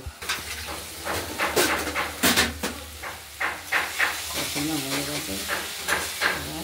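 Onion and garlic masala sautéing in oil for an egg curry, a close, continuous sizzle broken by repeated stirring scrapes, with a voice speaking briefly underneath.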